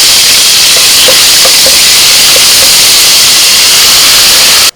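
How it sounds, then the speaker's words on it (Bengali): Whole garam masala spices, bay leaf and ginger paste sizzle in hot white oil in a pan, a loud, steady, close hiss that fills the whole clip and cuts off abruptly at the end. "দিয়ে দিচ্ছি সাদা তেল ফোড়নে দিচ্ছি তেজপাতা আর গোটা গরম মশলা দিয়ে দিচ্ছি আদা বাটা"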